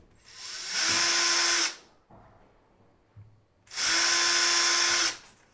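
A drill with a 2 millimeter bit runs in two short, loud whining bursts of about a second each, separated by a quiet pause with faint handling noise.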